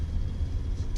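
Road traffic on a busy road beside a North Shore beach, a steady low engine rumble from passing cars filling the whole moment, fairly close and continuous with no voices.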